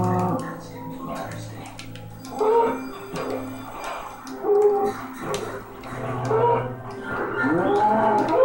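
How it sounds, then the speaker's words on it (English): A cow in Minecraft moos several times, low drawn-out calls repeating at close range over steady background game noise, with a few higher, yelp-like sounds mixed in. "I see a cow."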